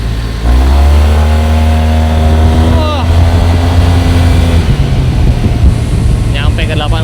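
A Yamaha TMAX scooter engine revs up under acceleration, a loud rising drone with a sharp pitch shift midway, then rushing wind noise; a rider briefly exclaims near the end.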